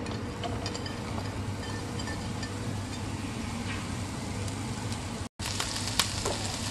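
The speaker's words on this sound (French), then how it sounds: "dans une poêle, je mets un peu de l'huile d'olive, un oignon que j'ai coupé en petits morceaux" Chopped onion sizzles steadily in olive oil in a frying pan, with a constant dense hiss and occasional light clinks of a utensil, briefly cut off near the end.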